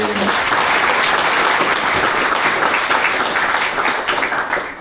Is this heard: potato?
no